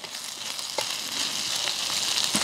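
Onions sautéing and browning in a pan over a moderate flame while cooking a cabbage and kielbasa soup, giving a steady, fairly loud sizzle and crackle with scattered pops throughout.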